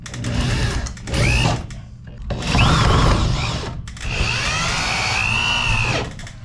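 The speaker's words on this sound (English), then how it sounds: "Then we'll put the self-tappers in." A power drill drives self-tapping screws into E-track inside an enclosed trailer, with loud whining bursts that rise and fall in pitch and short pauses between them, heard up close.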